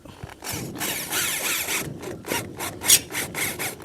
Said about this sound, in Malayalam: ആ മെഷീൻ തന്നെ ഇതിൻ്റെ സ്ക്രൂ അടിക്കണം കേട്ടോ.